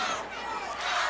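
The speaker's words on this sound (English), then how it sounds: "listen to the fans. They're really behind Terry Taylor." A packed crowd of wrestling fans at a boys club arena cheers for Terry Taylor, a dense wash of shouting and chatter sustained through the moment.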